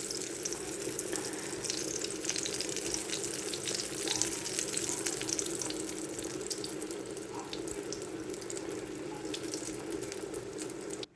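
Eggplant slices frying in hot oil over high heat, a continuous bright sizzling hiss that holds steady throughout, close and fairly loud with no talk over it.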